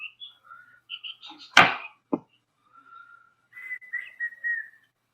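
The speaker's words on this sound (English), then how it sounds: "he's definitely whistling" A person whistles a few short tonal notes, then a longer wavering whistled phrase, heard alone and fairly close, with a sharp knock and clatter partway through.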